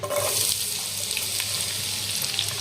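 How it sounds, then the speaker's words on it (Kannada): Small chopped onions frying in hot oil over a high flame, a steady close sizzle and crackle with faint stirring scrapes, no voices. "ಹೈ ಫ್ಲೇಮ್ ಒಳಗೆ ಉಳ್ಳಾಗಡ್ಡಿ ಒಂದು ಸ್ವಲ್ಪ ಕೆಂಪಗಾಗೋದ್ರ ಚಲೋತ್ನಾಗಿ ಫ್ರೈ ಮಾಡ್ಕೊಳ್ಳೋಣ್ರಿ"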